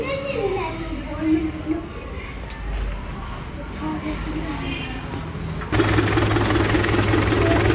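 People talk over background noise while a Mahindra 475 DI Bhoomiputra tractor sits after a crankshaft seal replacement and radiator service. The diesel engine then starts abruptly and settles into a loud, steady running drone.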